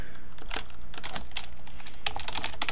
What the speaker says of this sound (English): If I could type right.